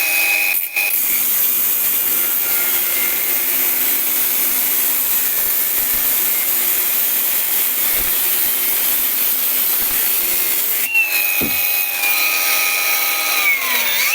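A Procraft Industrial AG125C cordless angle grinder runs at its third speed, a loud steady high-pitched whine throughout, with a brief change in tone near the end.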